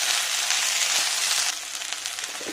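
Okra (bhindi) fries in a pan for an Andhra-style bhindi fry, giving a steady close sizzle and hiss on its own that eases slightly partway through.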